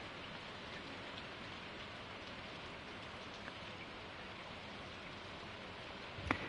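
Steady rain falls in the farming video game Stardew Valley, a soft, even patter that continues unbroken throughout at low volume with no voices.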